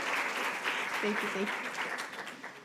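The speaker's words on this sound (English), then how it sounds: "One more, please, deep gratitude-filled applause for these 4 colleagues to share today." Audience applause at a literacy leadership and coaching session, sustained clapping from a room of colleagues with a voice speaking briefly over it before the clapping tapers off.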